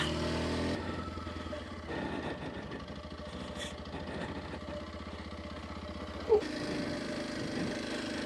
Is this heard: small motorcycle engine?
yes